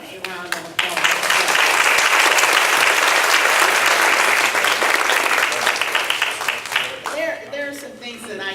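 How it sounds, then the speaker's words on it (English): A large crowd at a 2014 get-out-the-vote forum bursts into sustained, loud applause after a brief pause, clapping steadily for several seconds before fading as voices return at the end. "let's give everyone a round of applause"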